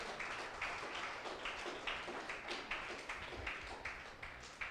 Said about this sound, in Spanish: Le puedo dar un fuerte aplauso al Señor